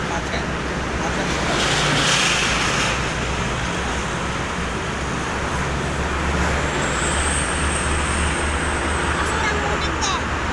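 A steady drone of slow, jammed traffic on the Jakarta–Cikampek toll road, with cars, buses and trucks rumbling continuously around a vehicle while people talk inside it.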